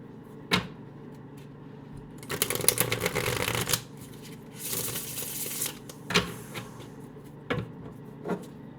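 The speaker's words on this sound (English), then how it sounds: "One more shuffle." Tarot cards being shuffled in a quiet room: a sharp riffle opens, followed by a long dense burst of flapping and crackling cards, then a softer rustle and a few separate card taps and snaps near the end.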